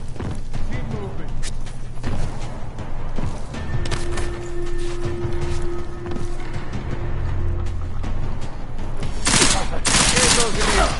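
Rapid bursts of gunfire crackle in the video game Cyberpunk, repeated volleys in uneven clusters with a sustained tone and a louder burst near the end, with voices talking over the action.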